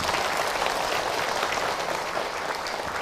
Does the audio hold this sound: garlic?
no